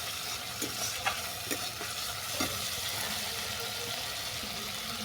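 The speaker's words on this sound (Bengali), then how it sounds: "মশলাটা ভালো করে কষিয়ে নেওয়ার পর দিয়ে দিচ্ছি কাঁচা লঙ্কা" Spice paste with green chillies sizzles and is stirred for a hilsa fish curry, a faint constant fry with a few light spoon scrapes, and no talk.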